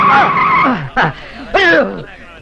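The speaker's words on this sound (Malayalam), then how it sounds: "Break break ചവിട്ടണം." A vehicle brakes hard and its tires skid, giving loud, close squeals that rise and bend in two or three short bursts over about two seconds.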